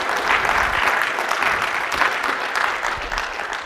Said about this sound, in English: I just want a big round of applause to the AV team